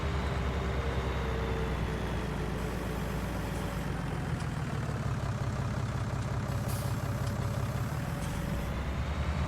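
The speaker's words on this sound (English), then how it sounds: "Looks like the autonomous tractor is doing fine with the new planter." In Farming Simulator 19, an autonomous tractor pulling a new planter gives a steady, droning engine rumble that stays even and continuous throughout, with no voices.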